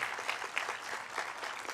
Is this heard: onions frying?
no